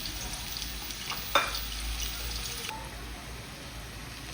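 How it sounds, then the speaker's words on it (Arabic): Potatoes frying in a pan alongside onions, a steady close sizzle with brief stirring clatter partway through, no voices. "والبطاطا راهي تتقلى ثاني"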